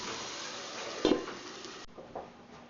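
Beef liver frying in a pan gives a steady, close sizzle with a brief clunk of utensil on pan partway through, and no voices.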